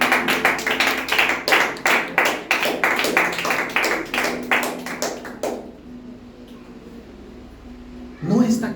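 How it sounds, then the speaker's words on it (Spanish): A church congregation claps in a quick, steady rhythm for several seconds. The clapping then stops abruptly, leaving quiet room noise before a voice comes in at the end. "¿Alguien le puede dar un fuerte aplauso al Señor?"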